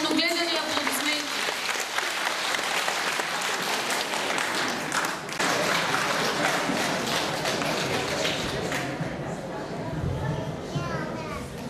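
An audience applauds at a folk-style stage performance, a continuous dense clapping wash under a voice speaking over it, fading slightly toward the end.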